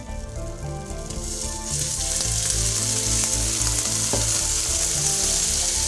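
Loud, steady sizzling in a hot pan, intensifying after a moment as drained boiled chicken is added for a chicken curry, with faint stirring scrapes and no speech.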